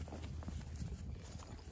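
Horse hooves clip-clop on a farm where heifers are being worked, a quiet, uneven patter of steps under a broad, noisy outdoor background.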